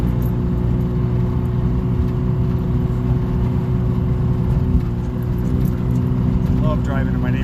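A two-stroke microcar drives through a neighborhood over speed bumps, its engine giving a steady, close, continuous drone with a low rumble throughout.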